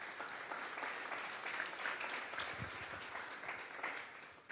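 Congregation applauding during a Sunday church service, a steady wash of many hands clapping throughout with faint voices underneath.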